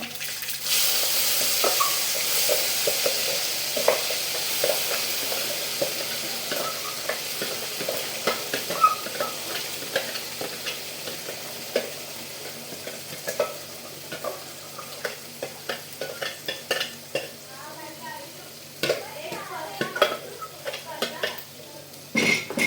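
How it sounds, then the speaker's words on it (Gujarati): Gravy of crushed ingredients with hing (asafoetida), turmeric and cumin cooking in a pan for sev usal, giving a steady close sizzle with frequent clinks and scrapes of a spoon stirring against the pan. "1 ટીસ્પૂન હિંગ, હળદર, અને એમાં મેં બધું જે ક્રશ કરેલું છે એ ગ્રેવી હું નાખી દઈશ"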